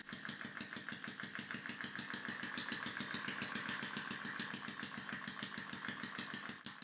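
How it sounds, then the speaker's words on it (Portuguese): A small homemade piston engine powered by liquid air runs smoothly, a rapid even chuffing pulse with a bright hiss, steady and close throughout. "E agora o motor está funcionando de uma maneira muito mais suave"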